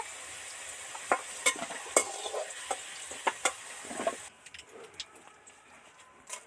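Dried red chilli and bay leaves crackling in hot oil, a soft sizzle with sharp pops and spatters, quieter after a few seconds.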